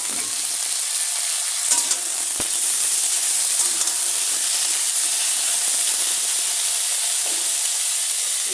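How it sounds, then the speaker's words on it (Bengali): Raw green banana pieces sizzle steadily in hot oil, a constant bright frying hiss with occasional stirring clicks, no voices. "এখন আমি কাঁচা কলাটা ছেড়ে দেবো।"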